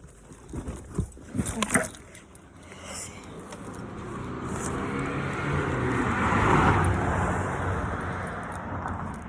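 A car drives past on a road, its engine and tyre noise swelling into a broad rush that peaks and then fades, heard at moderate distance after a few brief bumps near the start.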